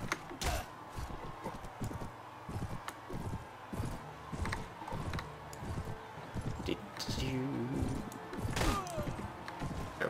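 Horse hooves in the medieval combat game Mount and Blade Warband, a run of quick, irregular thuds mixed with clanks and battle clatter, with a voice talking over the action.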